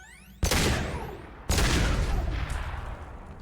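Two heavy gunshot blasts in Mass Effect 2, the first sharp report followed about a second later by a second loud shot, each leaving a long, noisy roaring decay.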